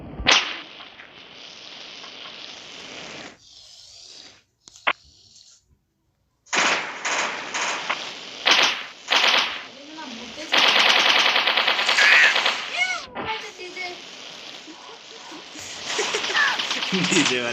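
Rapid machine-gun bursts sound in the Mini Militia mobile shooter game, with crackling repeated shots in dense clusters under loud music and excited talking.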